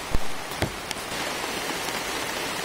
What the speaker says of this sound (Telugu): సో వర్షం బాగా ఎక్కువ అయింది.